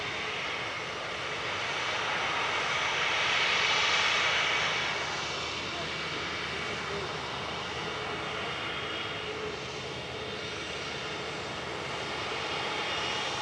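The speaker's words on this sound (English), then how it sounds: "So this is Singapore off to Houston, Airbus A350-900, 9V SMU, flight 52." Singapore Airlines Airbus A350-900 departing Manchester Airport, a broad steady roar of jet engines that swells around the middle and then holds, with people talking over it.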